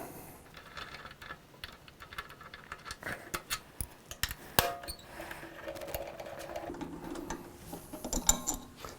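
A ratchet clicks in quick, uneven bursts while taking off the fuel tank bolts of a 2019 Kawasaki ZX6R motorcycle, with small metallic clinks and handling noises, close but fairly quiet.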